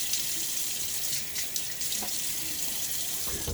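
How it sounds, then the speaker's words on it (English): A bathroom sink tap runs steadily with a continuous hiss as water splashes onto a face before shaving, with faint splashes and drips, close and alone with no talk. "Let's put some water on my face."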